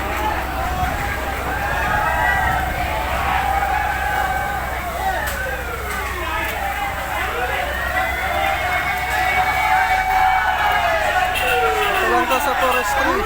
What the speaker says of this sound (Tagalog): Bumbero.